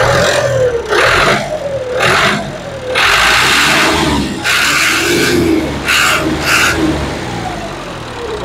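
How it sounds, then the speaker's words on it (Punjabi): A Model 4 tractor engine running close by, idling with a deep rumble and revving up in several repeated bursts between steadier stretches. "4 ਮਾਡਲ ਟਰੈਕਟਰ ਆ। ਇੱਕ ਵਾਰੀ ਦਾ ਆਵਾਜ਼ ਇਹਦੀ ਦੇਖ ਲਓ"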